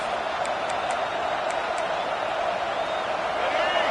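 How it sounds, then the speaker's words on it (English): A steady stadium crowd roar in the College Football 26 video game, Alabama versus Nebraska, holding a dense, constant wash of cheering noise throughout with a slight swell near the end. "And the crowd coming to life here,"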